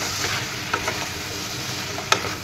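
Chicken with spoonfuls of ground coriander, cumin and chili powder is stirred in a pan for a mint chicken curry: a faint steady sizzle with a few soft scrapes and one sharper clack of the spoon near the end.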